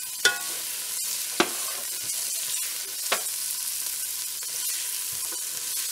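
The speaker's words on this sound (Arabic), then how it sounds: "دابا ان شاء الله غادي نبقى بحال هكا الخضره ديالتي تشحر مزيان حتى تولي هذا رطبه" Vegetables sauté in a pot for a cream soup, a steady sizzle broken by a few sharp clinks of a utensil against the pot, close and moderately loud, with no talking.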